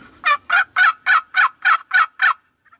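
Eight quick, loud gobbling notes from a wild turkey ring out in a steady burst, followed by near silence.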